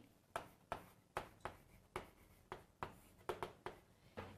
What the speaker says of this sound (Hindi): तो क्या लिखूंगी मैं यहां पर लिखती हूं डीएनए